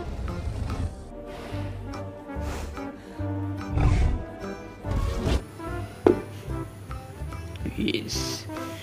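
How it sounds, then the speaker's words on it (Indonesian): King Kong in the video game Jurassic World Evolution 2 gives heavy, repeated roars and booming thuds over busy game music and effects, while a person talks throughout. "King Kong"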